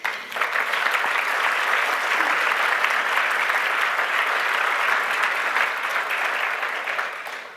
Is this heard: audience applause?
yes